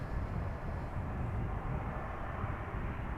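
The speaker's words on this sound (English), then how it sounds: "First up, this Embraer 190." An Embraer 190 airliner at Schiphol Airport produces a steady, low engine drone, even and moderately distant, with no voices over it.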